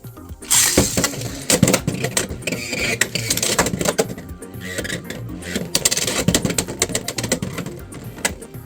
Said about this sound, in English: let's go ahead and do a straight test launch and then a slant test launch.